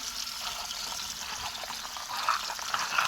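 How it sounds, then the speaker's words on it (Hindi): Water runs steadily from a tap while toy vehicles are washed clean of mud, a continuous hissing splash with a few brighter spatters near the end and no talking. "चलो पानी के नल को ऑन करते हैं और इसको अच्छे से साफ़ करते हैं।"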